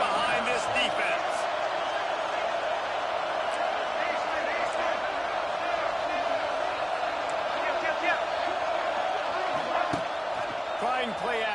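Stadium crowd in the College Football 25 video game roars steadily throughout, a dense sustained cheer with scattered whoops, while a commentator talks over it.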